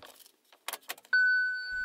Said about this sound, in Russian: Включим зажигание автомобиля с помощью ключа